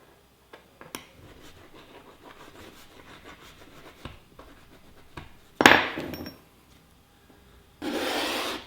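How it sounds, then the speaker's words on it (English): A hard steel file rubbed along a steel scraper blade to burnish its edge, giving soft scraping strokes, then a louder rasping burst and a final sustained hiss-like rasp, close and alone. "Give it the old file there. Burnish it down good."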